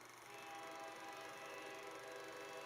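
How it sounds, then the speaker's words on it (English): An approaching train sounding its horn, a sustained tonal blast with steady rumble underneath, heard faintly and continuously. "A train!"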